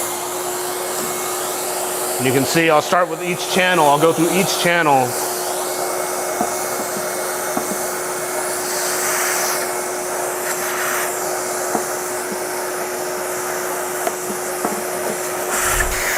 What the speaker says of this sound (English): So now go ahead and turn on this vacuum.